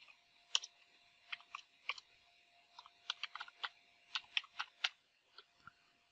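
Quick, irregular clicks of fingers typing on a computer keyboard, entering database credentials, sharp and close in short bursts with brief pauses in a quiet room.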